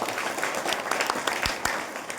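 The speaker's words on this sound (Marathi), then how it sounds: "सगळ्यांनी टाळ्या वाजवलेल्या आहेत" At a kirtan, an audience applauds in a dense, steady wash of clapping heard from a moderate distance, with a couple of sharper claps standing out near the end and faint voices underneath.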